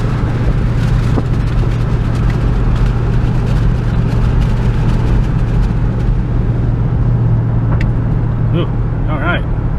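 A 2005 Ford Mustang driving after a transmission swap and shifting through the gears: a loud, steady engine drone fills the whole stretch, with a continuous low rumble and road noise.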